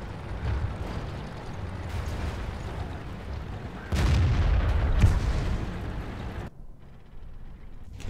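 A Hummel self-propelled artillery piece fires in World of Tanks: a heavy, rumbling cannon boom rolls out, a second loud blast lands midway, then the roar cuts off abruptly into quieter background.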